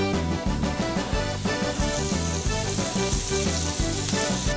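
Red and green peppers, celery and onions sizzling in a pot for Cajun gumbo: a bright frying hiss that swells partway through, partly masked by loud, rhythmic background music.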